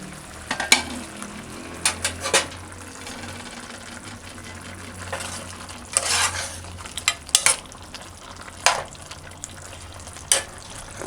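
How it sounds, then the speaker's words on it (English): Curried chicken feet cook in a covered pot on a stove at medium heat, with a soft bubbling simmer under intermittent spoon scrapes and clinks against the pot, no voices. "Just cover it and just let it keep on simmering, allow simmering."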